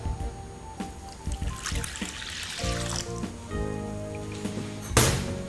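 Water trickles and splashes as 1.5 cups are poured into a bowl holding a freshly emptied sourdough culture, a faint close pour that ends with a brief louder splash.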